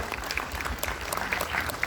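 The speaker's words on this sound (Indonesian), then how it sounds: "tepuk tangan untuk Mas Asaf" Audience applause at a panel discussion for the horror film Qodrat 2, a dense, steady wash of many hands clapping close by, filling the short moment without talk.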